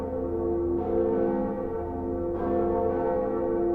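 Deep church-style bell tolling in the Dark Souls video game, a sustained resonant ring with two strikes about 1.5 seconds apart, loud and alone with no talk.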